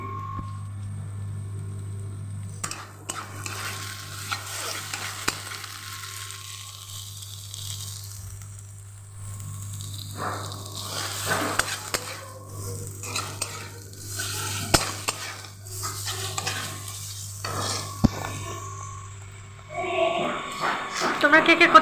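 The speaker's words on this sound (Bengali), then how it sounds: "কচু শাক রান্না করছি।" Taro leaves cooking in a pan, with a soft sizzle and intermittent scraping and clinking of a stirring spoon under a low steady hum, while someone talks throughout.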